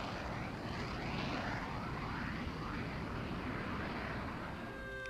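A high-performance military aircraft flying, a steady broadband engine roar that holds loud and continuous for about five seconds, with faint tonal whines near the end and no talk.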